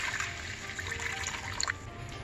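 Water poured into a heated wok while cooking a stew, a steady trickling splash with a faint background hum and a few light clinks, no talking.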